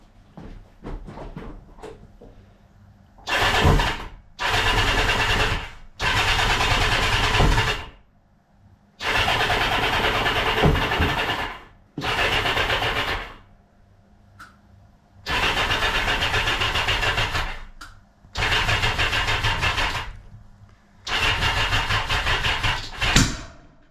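A Kawasaki GPz 750 motorcycle fails to start in the cold: a series of loud starter cranking bursts, each a few seconds long, separated by short pauses, with no catch into running.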